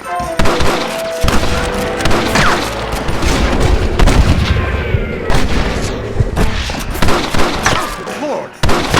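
Gunfire rattles through a shootout in the video game Red Dead Redemption, a dense stream of loud shots and booms with no break, while game characters shout over the fighting.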